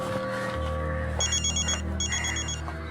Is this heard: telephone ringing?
yes